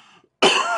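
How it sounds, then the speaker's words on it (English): A single sharp cough bursts out after a brief silence, loud and close. "I'm gonna start coughing now."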